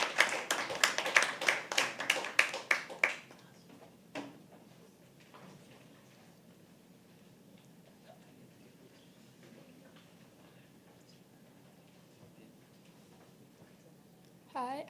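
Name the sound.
audience applause at a poetry open mic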